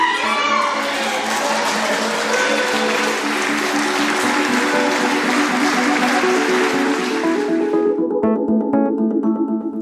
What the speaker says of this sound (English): hearing all the applause and cheering